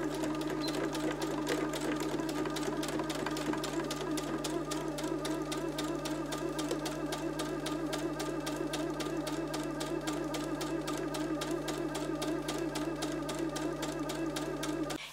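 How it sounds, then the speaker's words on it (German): Sewing machine straight-stitching along the edge of a fabric shopping bag, a fast, even mechanical rattle running steadily and close for the whole stretch, stopping abruptly at the end. "Als nächstes nähe ich hier oben knappkantig am Rand entlang und auch genauso auf dieser Seite einfach mit dem Geradstich und der Stichlänge 3."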